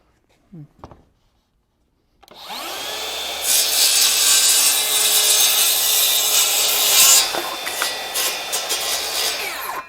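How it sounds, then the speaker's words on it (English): A saw cuts notches into wood backing inside a wall, a loud, continuous rough cutting noise that starts after a brief quiet knock and runs steadily to the end, easing toward the close. "So I'm going to do a couple cuts so that I can notch this out here."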